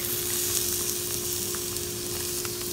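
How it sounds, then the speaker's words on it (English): Garlic sizzling in a hot pan for a mango curried chickpeas and tofu dish, a steady, dense frying hiss with faint scattered stirring clicks and a constant low hum underneath. "So now I'm gonna add some garlic."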